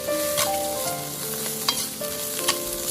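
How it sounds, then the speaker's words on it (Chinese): Egg fried rice with chopped scallions stir-fried in a wok, with a loud continuous sizzle and repeated scraping tosses of a spatula, close and with no voices. "再快速的翻炒均匀，炒出香味"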